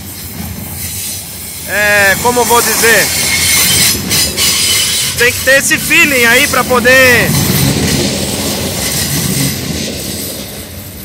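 Freight train braking on the steep Serra do Mar descent, wheels squealing in bursts of high metallic screeches over a steady loud rolling rumble, while someone talks throughout.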